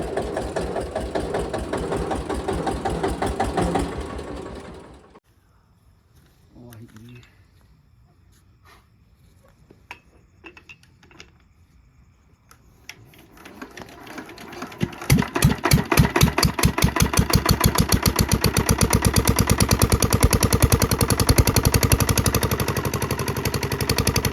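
A tube-well bore pump engine runs in a farm field at night, loud and steady up close, then cuts to near silence with scattered knocks before chugging back to a strong, even running rhythm.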